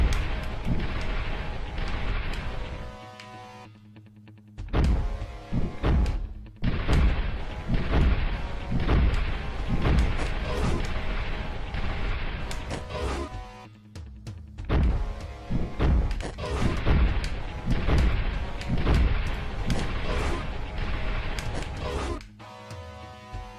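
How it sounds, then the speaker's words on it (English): Explosions in the side-scrolling action game Until I Have You boom and thud repeatedly amid dense, loud game music and effects, a rapid series of heavy blasts with a few brief lulls. "some of these explosions, I swear to God, they are not even close"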